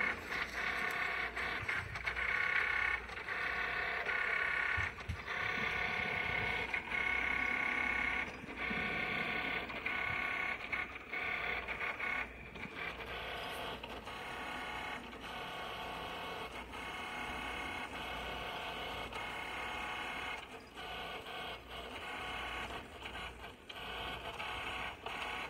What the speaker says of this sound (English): Right now I am printing my design for the mug.